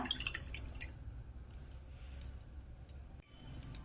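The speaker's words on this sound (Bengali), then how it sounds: "এবার এখানে আমি দিয়ে দেবো জলটা।" Water pours into a wok set on a lit gas stove, a steady close splashing rush that holds for a few seconds with faint drips and clinks over it.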